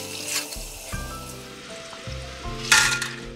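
Chana dal frying in hot oil for a Sri Lankan mixture snack, giving a soft, continuous sizzle with bubbling, punctuated by a few brief clinks and a sharper hiss near the end.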